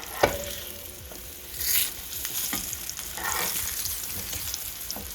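Slices of green tomato fry in hot oil in a skillet, giving a steady close sizzle with crackles and soft pops, alone without talk.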